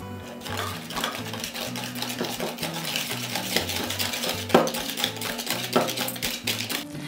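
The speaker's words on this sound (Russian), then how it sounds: "И перемешаем." Steady scraping and clinking of a utensil stirring a honey cake mixture with honey in a pot, continuous and close, with a gentle hum underneath.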